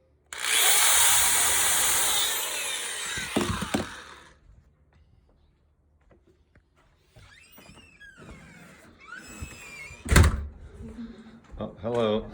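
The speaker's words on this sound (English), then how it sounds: "A power drill." A power drill whirs loudly for a few seconds, then stops; quiet follows, then scattered knocks, clatter and a sharp bang nearby.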